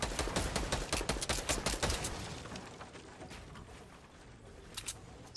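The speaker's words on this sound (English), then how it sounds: "it's the other guy trying to shoot me" Rapid bursts of enemy gunfire in Fortnite Battle Royale, a dense run of sharp cracks that is loud at first and then thins to scattered shots, with no talking.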